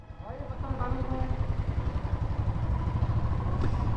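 A Royal Enfield Bullet motorcycle thumps at idle as it is moved out of a parking area, its low rapid single-cylinder pulse steady and close, with someone talking over it.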